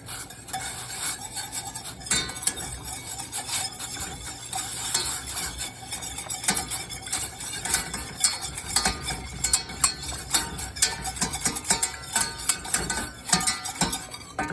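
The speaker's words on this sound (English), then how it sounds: "I'm going to stir the daylights out of it until it's thickened" A spoon stirs blue tea thickener into a mixture, scraping and clinking steadily against the bowl in a continuous, brisk rhythm, close and fairly loud with no talking.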